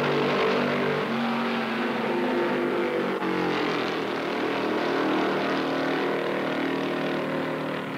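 Ford-engined 1968 stock cars racing at Darlington roar continuously at full throttle, a loud, dense engine drone that swells slightly as they pass, with no voices over it.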